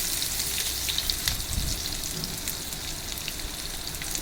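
Chopped onions dropped into hot oil already seasoned with cumin, frying with a loud, continuous close sizzle and crackle and a brief burst of splatter near the start, with no voices.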